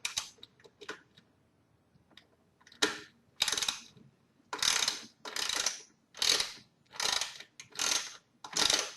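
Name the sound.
unscrewing the lawn mower's cooling system cover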